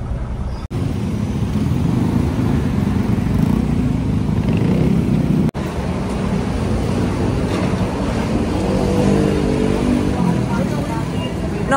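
A vehicle pushes hard through busy city traffic in Makati, Philippines, its engine and road noise forming a loud, steady rumble throughout, with a couple of brief dropouts and voices mixed in underneath.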